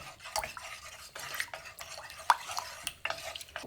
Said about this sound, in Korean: 밀가루 한 스푼 넣고요. 잘 풀어주세요.